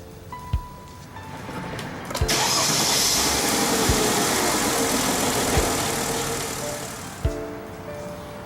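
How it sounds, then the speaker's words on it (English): A Mercedes-Benz car engine cranks and fires up during routine service just after an oil fill, jumping from near silence into a loud, steady idle that runs for several seconds before settling, with a few sharp clicks around it. "Now I'm going to start the vehicle."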